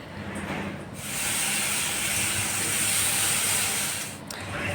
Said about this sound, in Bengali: আর এখন আমি ভাজবো হচ্ছে আলু ভাজা